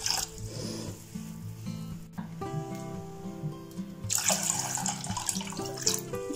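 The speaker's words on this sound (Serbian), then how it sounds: "Sada u jednu šerpicu sipajte 400 ml vode" About 400 ml of water pours into a small pot, a gurgling stream close by that briefly pauses and then splashes louder, over faint background music, with no talk.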